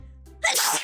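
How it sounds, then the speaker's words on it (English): A single loud sneeze bursts out close up from a person, preceded by a brief low hum and followed by a breathy, noisy tail. "Oh, I gotta sneeze."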